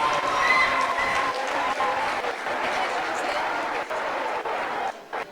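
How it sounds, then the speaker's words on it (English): An audience at a primary school awards ceremony gives sustained applause for the graduating class, a dense wash of clapping filling the room, with voices mixed in throughout. "Let's give them a big round of applause."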